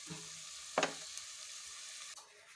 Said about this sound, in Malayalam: ഇനി നമുക്ക് ഈ പൊടി നമ്മുടെ ഉള്ളിക്കകത്തോട്ട് ഇട്ട് കൊടുക്കാം